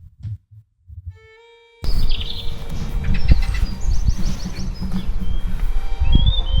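A blackbird sings clear, fluting phrases in a churchyard, preceded by brief rustling and a tonal whistle, the song carrying over a steady outdoor hiss.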